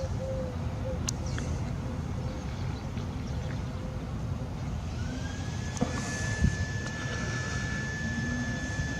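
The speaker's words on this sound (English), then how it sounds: "Big plane." A large airplane drones overhead, a broad steady roar at a distance, with a few faint bird chirps scattered through it.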